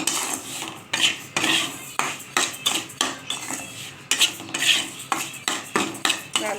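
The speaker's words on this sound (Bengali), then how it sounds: "তো এতেই আমি একটুখানি ডালিয়াটা ভেজে নেব" A metal spoon scrapes and knocks against a pan while broken wheat (daliya) is lightly roasted over previously fried lentils, in rhythmic, repeated strokes about two per second, close and crisp, with no talking.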